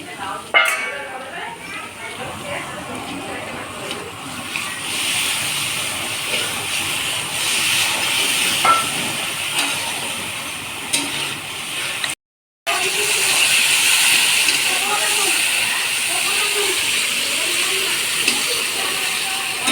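Bengali fish curry spice paste frying in oil hisses and sizzles steadily after a little water is added; the spitting hiss continues close up, breaks off briefly, then resumes, with faint voices nearby.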